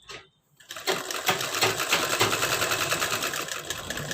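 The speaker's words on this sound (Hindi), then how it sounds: "तो हमें दोनों शोल्डर मिलाते हुए हमें इस तरह से सिलाई लगा देना है" A sewing machine stitching a blouse shoulder seam starts after a short silence and then runs in a fast, even mechanical chatter, close and continuous, with no voices.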